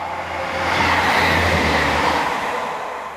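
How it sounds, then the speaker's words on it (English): A Class 158 diesel passenger train on the Borders Railway passes nearby, with a deep engine rumble and a broad rushing noise that swells and then holds steady, without voices. "This is a Class 158."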